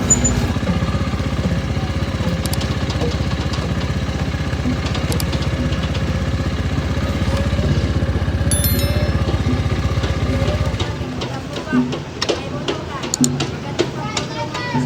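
A motorcycle rides along a provincial road in the Philippines with a steady, loud engine drone and wind rush that cuts off near the end, leaving quieter clatter and scattered ambient sounds.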